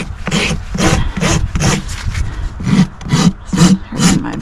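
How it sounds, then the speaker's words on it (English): A rasp filing a horse's hoof during a trim, steady back-and-forth strokes, about ten rhythmic scrapes close up and fairly loud, with no talking. "So rasping, keeping in mind the balance of this hoof"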